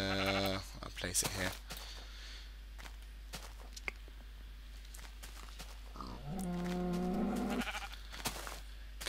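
Minecraft sheep bleat loudly twice, one wavering bleat at the start and a longer one later, with other farm animal noises and footsteps around them, and someone speaking briefly in between.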